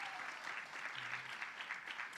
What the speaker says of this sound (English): Please put your hands together. Give them a round of applause.